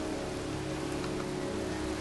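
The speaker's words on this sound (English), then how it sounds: "standing in a cemetery in pouring rain" Pouring rain falls over a cemetery in the video game Heavy Rain, a dense, even hiss of downpour that holds steady throughout, with a faint low hum beneath and no voices.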